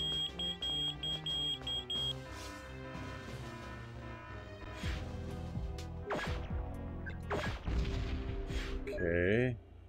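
Alarm system in the N64 game Perfect Dark, a series of regular short beeps at the start amid dense game music and sound effects, followed by heavy crashes and a rising electronic tone.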